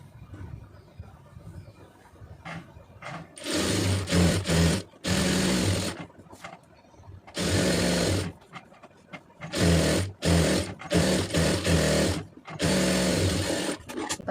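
An electric sewing machine stitching fabric for a round-neck garment, running in several bursts of a few seconds each with short quiet pauses between them, fairly close and steady.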